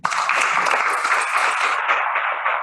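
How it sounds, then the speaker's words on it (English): A lecture-hall audience applauds a student speaker at a science presentation event, with a dense, steady wash of many hands clapping throughout, slightly thinning near the end; no talking over it. "So another round of applause for JC."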